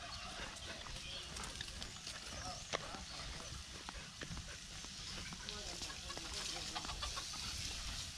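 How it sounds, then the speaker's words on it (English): Chickens clucking at a farm homestay in Ratchaburi, Thailand, several birds calling in short scattered clucks amid outdoor background noise. "Loads of chickens around"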